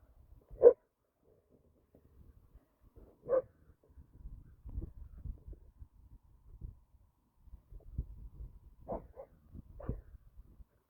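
Dogs on a Sunday walk, one of them a Malinois, give a few sharp barks several seconds apart at moderate distance, with soft rustling and footsteps between them.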